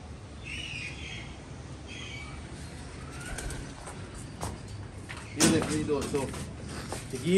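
Pigeons cooing in a loft, soft repeated coos fairly close among general bird chatter and background noise, with brief louder knocks and rustles near the end.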